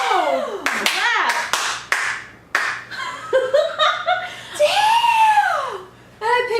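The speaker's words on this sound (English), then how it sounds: "that deserves a slow clap." Slow hand clapping at a trailer reaction: a few loud, spaced claps in the opening seconds, followed by excited talking and exclamations.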